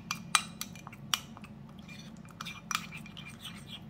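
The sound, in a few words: stirring mayonnaise and chili sauce in a bowl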